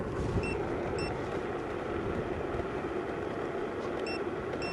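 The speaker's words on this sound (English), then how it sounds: "Scooter is actually beeping at us." Short, high electronic beeps from an Apollo City Pro electric scooter repeat at regular intervals over a rumbling, windy motor noise on a hill climb at full throttle, fairly faint against the background.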